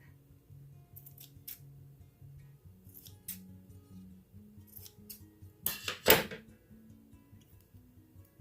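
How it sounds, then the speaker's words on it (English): Scissors snip once, sharp and close, while slant-cutting the stem of a handmade flower button, standing out from a quiet background of low hum. "take your scissors, and I do a slant like that"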